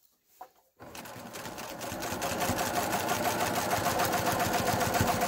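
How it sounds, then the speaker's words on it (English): A sewing machine stitching binding onto a quilt starts after a brief rustle, then runs in a steady fast rhythmic whir that builds slightly and continues close and uninterrupted. "And now I sew down this side."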